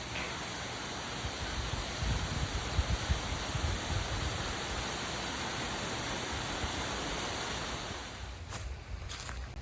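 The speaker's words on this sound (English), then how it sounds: "Walking down that way to show you a little bit of the waterfall" A creek waterfall close by gives a constant, even rushing roar that stays steady, then dips slightly near the end.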